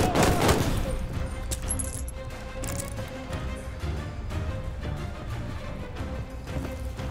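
Dense, continuous battlefield gunfire in the World War II shooter Call of Duty: Vanguard, with rapid bursts and distant pops layered over a constant roar of combat.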